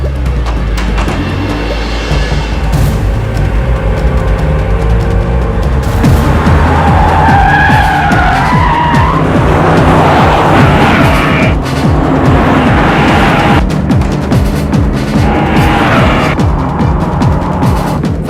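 Tires squeal and skid loudly as a car tears away in a Telugu action-comedy film scene, engine roaring close up with long, wavering screeches rising and falling over about eighteen seconds.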